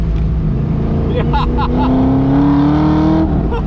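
A 500 horsepower V8-swapped Mazda Miata engine drones loudly from inside the car, its pitch climbing steadily as it accelerates, with brief speech from occupants heard over the engine.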